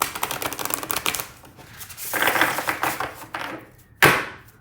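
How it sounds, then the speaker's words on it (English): A new deck of playing cards being shuffled during a tarot-style card reading, close up, with bursts of rapid riffling clicks and a sharp bridge snap near the end, no talking. "New decks sometimes take a little extra shuffling."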